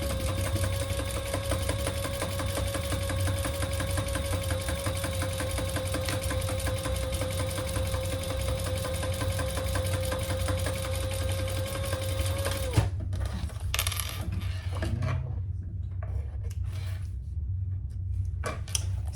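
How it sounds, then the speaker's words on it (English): A sewing machine runs steadily at close range, stitching a zipper gusset onto the fabric bottom of an enlarged crossbody bag, a fast even whir that stops abruptly and is followed by fabric handling. "We're going to sew behind on the fabric bottom"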